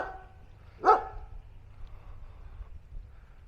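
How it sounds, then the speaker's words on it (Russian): A shepherd dog gives a single sharp bark at a moderate distance, standing out briefly over a quiet low background hum. "Овчарка вон что-то лает."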